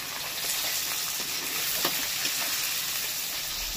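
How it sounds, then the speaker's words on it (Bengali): Chopped onion frying in a hot pan, a steady close sizzle and hiss with a few faint stirring clicks, continuous and unvoiced. "এবার এই পেঁয়াজটা দিয়ে দেবো। পেঁয়াজটাকে প্রথমে ভেজে নেব।"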